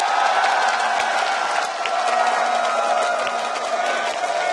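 Crowd cheering and applauding at a League of Legends World Championship quarterfinal match in an arena, a broad, steady roar of many voices that holds loud for the whole stretch.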